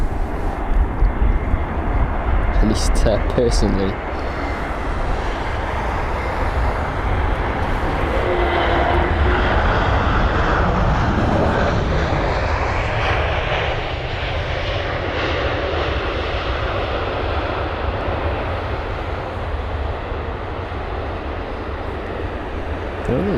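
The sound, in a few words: Lufthansa jet airliner engine noise at London Heathrow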